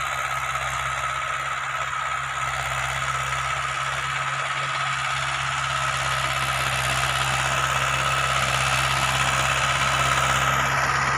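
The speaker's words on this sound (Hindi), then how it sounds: "पहले तो चाल देख लो आप ट्रैक्टर की" Swaraj 575 XP Plus tractor engine running in first gear on a rotavator, a steady close diesel drone with low rumble and knocking vibration throughout, no voices.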